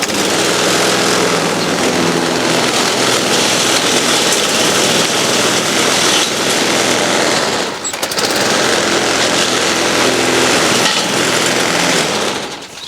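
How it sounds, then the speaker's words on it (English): Loud, continuous roar of a lawn mower chopping soft hedge trimmings into compost in a garden, rattling and clattering close by, with a brief dip in the engine noise midway. "I'm going to mow this up, and that will chop it up for compost and tidy up for me"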